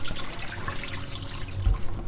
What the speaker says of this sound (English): Use the strainer and just strain it.